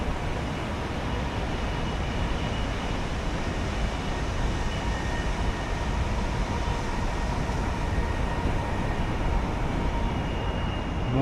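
A train passing near Jalama Beach, California, a steady broad rumbling roar that holds at an even level from start to finish, fairly loud and without voices.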